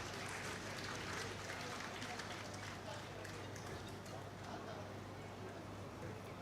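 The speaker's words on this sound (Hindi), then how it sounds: "तालियां भी आपकी ओर से जरूर होती रहें" A large crowd at a hospital campaign launch event in Ranchi applauds continuously, a dense, sustained wash of clapping at a steady level that does not trail off, with a voice faintly audible underneath.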